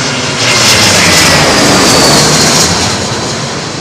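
Jet airliner arriving at London Heathrow Airport in a blustery crosswind, a loud, close, sustained engine roar with rushing wind noise that swells and then slowly eases.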